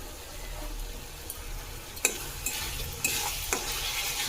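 Masala with a pinch of sugar sautéing in oil in a pan, a quiet sizzle with occasional sharp spatula scrapes and taps.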